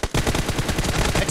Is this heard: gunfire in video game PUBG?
yes